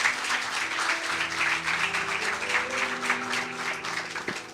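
Congregation applauding during a church service, a broad, steady wash of clapping heard alongside a sustained, tonal accompaniment in the background, moderately loud throughout.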